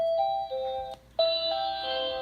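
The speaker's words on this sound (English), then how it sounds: "these are the different tones they have. I think that's default." A Ring video doorbell plays its default chime, a bright two-part melodic ding-dong repeated after a short pause, clear and close with no speech over it.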